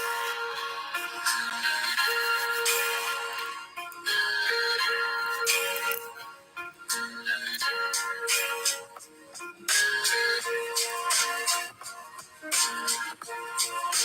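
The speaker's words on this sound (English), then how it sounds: "Over here, we listen to a little jazz music before we get into our topics," Jazz music plays on its own as an intro with no voices, a steady tonal melody running throughout with short dips in level.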